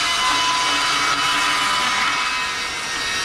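Table saw spinning and cutting through a piece of wood, a steady loud whine and roar held throughout with no break, close by and without voices.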